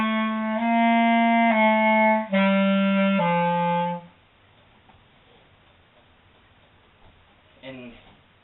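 A clarinet plays a few sustained notes in a row, loud and clear, with the last one falling lower, then the sound stops. A brief voice is heard near the end.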